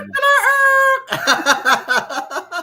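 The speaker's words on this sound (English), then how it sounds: "The bloody chickens are loud." A rooster crows in one long, loud, wavering call close by, followed by a rhythmic run of chickens clucking in short repeated bursts.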